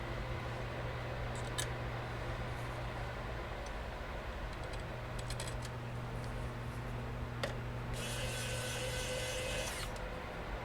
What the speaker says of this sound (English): Get these screws in here.